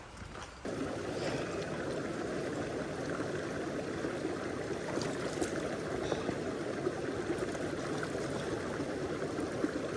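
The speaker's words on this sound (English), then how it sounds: "It definitely sounds like water." Steady broadband rush of a flowing mountain stream at high altitude, continuous and fairly close, with a soft bubbling texture and no talking over it.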